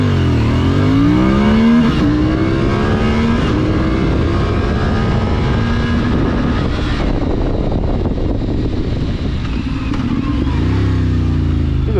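CFmoto 450MT adventure motorcycle accelerating through the gears, engine note climbing and dropping with each shift, loud and close over wind rush.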